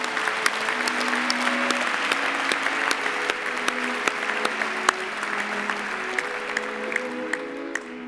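A large audience at a postgraduate graduation ceremony claps steadily and warmly for new medical graduates, a sustained, even wash of applause with soft music playing beneath it.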